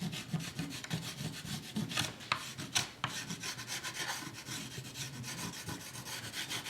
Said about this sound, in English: Then I'm going to chalk that surface so that when I get it all sanded, I can see that.